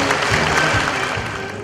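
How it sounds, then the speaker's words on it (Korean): Following a Kyungpook National University professor's lecture at a Korean commemoration of Goryeo's Chungnyeolgong 800th birth anniversary, an audience gives a short round of loud, dense applause that stays steady throughout. "다시 한번 큰 박수로 부탁드리겠습니다."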